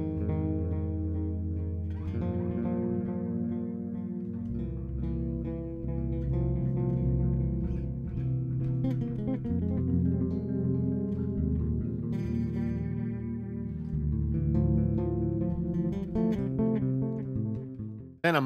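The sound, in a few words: bass guitar through cheap pedal's tape delay setting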